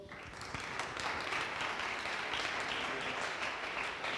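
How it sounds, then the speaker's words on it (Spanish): Steady applause from a sizeable audience at a round-table conference session fills the whole stretch, a dense even wash of many hands clapping without pause. "Le damos un fuerte aplauso."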